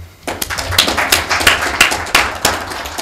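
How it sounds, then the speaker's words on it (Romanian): Scattered applause at a Moldovan government cabinet meeting, a few hands clapping in a loose, uneven rhythm of distinct sharp claps rather than a full ovation, close and fairly loud in a room. "Haideți să-i aplaudăm"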